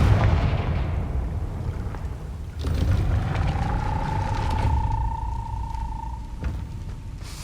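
Confringo fire spell in Hogwarts Legacy, a rumbling blast with a dull whoosh and a sustained fiery hum that lingers for several seconds before fading.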